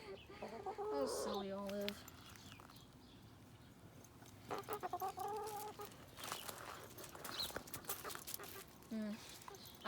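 Backyard chickens cluck and make short squawks close by, several separate calls scattered through the clip, while a person talks quietly between them.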